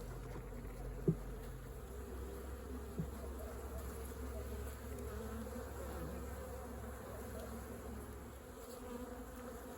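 A dense, steady hum of many honeybees buzzing close by at an open hive, continuous and fairly quiet, with a couple of faint knocks early on.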